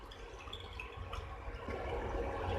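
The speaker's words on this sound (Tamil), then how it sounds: "அதனால நம்ம கொஞ்சமாக தண்ணி சேர்த்திக்கலாம்" Water is poured into a simmering dhaba-style paneer masala gravy, a faint liquid trickle and splash that grows slightly fuller toward the end, quiet and close with no talk.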